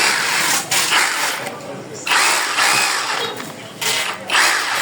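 A Makita cordless rotary hammer drill runs in hammer drill mode, its harsh buzzing hammer noise in several loud bursts separated by short pauses.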